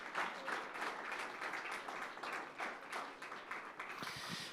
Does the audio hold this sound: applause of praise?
yes